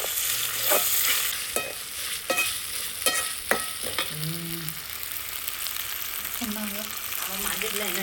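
Onions and tomatoes fry in a pan for a village-style chicken and mutton curry, a low sizzle broken by several sharp scraping stirs and clinks of a spoon, with faint voices in the background.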